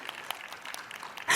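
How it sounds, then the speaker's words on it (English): Audience applause for poets at a literary reading, a steady patter of many hands that swells loudly near the end. "please clap for these guys"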